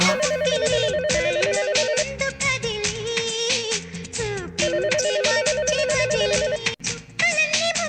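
A phone rings with a looping electronic ringtone melody, loud and close, repeating its pattern continuously with no talking.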